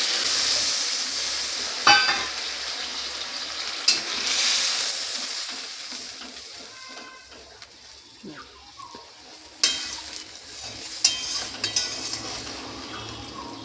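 Water poured into a pan of sautéed ridge gourd curry with cumin sets off a bright sizzle that slowly calms to a quieter bubbling, with occasional sharp spoon and pan clinks.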